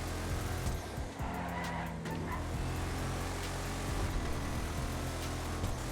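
A Declasse Vamos, a rear-wheel-drive muscle car in GTA Online, roars steadily at speed with a loud sustained engine drone and brief tire squeals, filling the whole stretch without talk.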